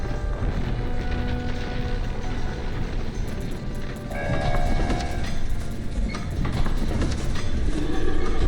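A train rumbles through a station in a Roblox game, giving a dense, steady clatter that grows slightly louder midway, with faint tonal squeals.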